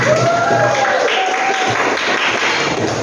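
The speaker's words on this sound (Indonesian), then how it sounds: "Oke, tepuk tangan kita semua" A class of students claps together in a classroom, a loud continuous crackle of hands with voices mixed in and a short sung or whistled tone near the start.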